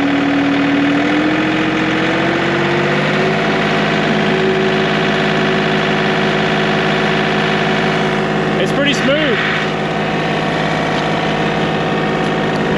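John Deere 4105 compact tractor with hydraulic drive, its engine held at about 2,000 RPM, giving a loud, close, constant drone with a steady hum and a brief pitch wobble near the end.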